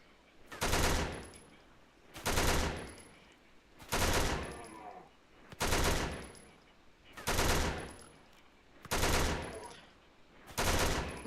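Seven loud, evenly spaced bursts of video game gunfire, each lasting about a second with a sharp attack and ringing tail, recurring roughly every 1.7 seconds with quiet gaps between.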